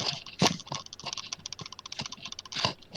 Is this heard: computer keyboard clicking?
yes